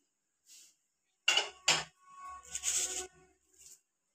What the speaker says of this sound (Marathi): मी पुन्हा तीच कढई घेतली